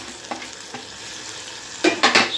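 Close, brief scrapes and a soft sizzle as tomato is stirred into handi chicken masala in a pot with the gas turned off, a few quiet strokes followed by louder stirring near the end.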